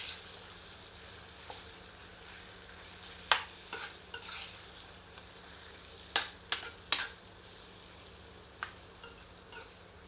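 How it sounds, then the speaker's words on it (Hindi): Spiced chicken pieces sautéed with other ingredients over medium heat for tari murgh, made in a pressure cooker; a steady low sizzle runs throughout, with sharp spoon-against-pan scrapes and clatters clustering in the middle and near the end. "इसे अन्य सामग्री में मिलाकर मध्यम आंच पर 4 से 5 मिनट भूनते हैं।"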